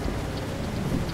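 Rain falls steadily in Euro Truck Simulator 2, a dense, even hiss of drops hitting the truck from a cab perspective, with no talking over it.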